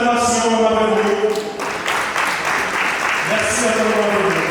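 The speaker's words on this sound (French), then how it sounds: "Elle mérite les bonnes acclamations, Marégo." Crowd applause and cheering for an award recipient at a prize-giving ceremony, loud and sustained, mixed with voices and music-like tones throughout.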